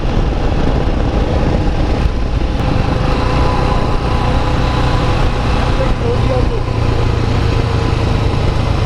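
A Suzuki Gixxer SF motorcycle engine runs steadily while riding, a loud, constant mid-pitched drone with wind rush and no pauses throughout.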